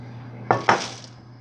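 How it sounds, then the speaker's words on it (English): A metal pan set down on a kitchen stove with two close, sharp clatters about a fifth of a second apart, then a fading ring, over a low steady hum. "You're gonna put the pan on right here."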